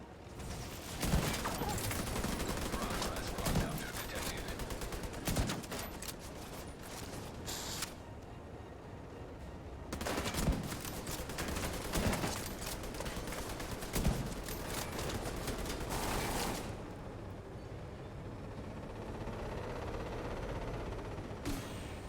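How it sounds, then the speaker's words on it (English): Combat in the shooter The Division 2, with bursts of rapid gunfire, sharp impacts and explosive thumps from a grenade launcher coming in several clusters separated by brief quieter stretches. "Oh, come on, that's a grenade launcher."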